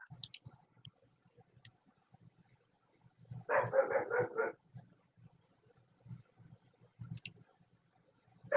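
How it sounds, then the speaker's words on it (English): A neighbor's dog barks in a quick cluster of several sharp yips heard through an open window, moderately loud against a quiet room with faint clicking. "Got a dog there, huh?"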